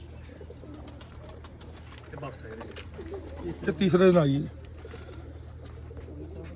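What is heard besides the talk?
pigeons cooing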